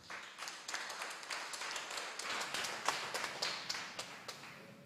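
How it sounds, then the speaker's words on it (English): Scattered clapping from a hybrid webinar audience, a light ongoing patter of hands with distinct individual claps over about five seconds, fairly faint and without talk. "please give Ms. Vinyas a round of applause."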